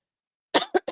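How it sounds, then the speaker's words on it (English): Three close, loud coughs in quick succession after a moment of silence, the first the longest and the last two short and sharp. "Sorry for coughing into the mic"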